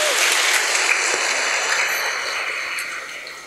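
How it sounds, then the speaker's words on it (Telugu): A church congregation applauds to welcome the archbishop at a feast-day mass, a dense, loud, steady wash of clapping that fades slightly toward the end. "అందరం చప్పట్లతో వారిని ఆహ్వానించుదాం."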